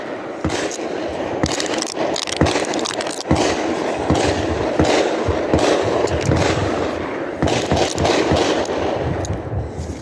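Gunshots fire in a rapid, irregular string of sharp close bangs, with brass casings ejected, over a steady background rumble.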